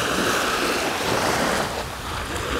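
Waves of the Sea of Azov wash continuously onto the shore, a loud, steady surf roar mixed with wind, with no voices.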